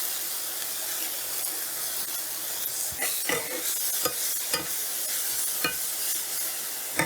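Bean sprouts cook in a pan with a steady sizzle and hiss. Sharp scrapes and clacks from stirring cut through several times, growing more frequent in the second half.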